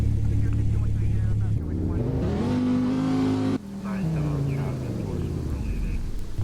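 Video game car engine revving loudly, pitch climbing and shifting with gear-like steps, then dropping back to a steady drone, with an excited voice talking over parts of it.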